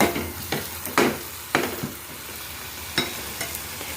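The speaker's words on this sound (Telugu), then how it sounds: "ఇప్పుడే ఈ ఆనియన్స్లోకి గోంగూర వేసేసుకొని మంచిగా ఫ్రై చేసుకోవాలి." Gongura leaves fry with onions in a pan, a low steady sizzle punctuated by several crisp scraping strokes of a spoon stirring against the metal.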